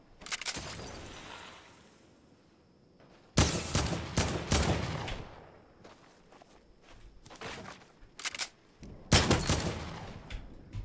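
Gunfire in Fortnite, in a Borderlands crossover match: bursts of rapid shots and sharp cracks, with loud clusters separated by quieter stretches of footsteps and movement.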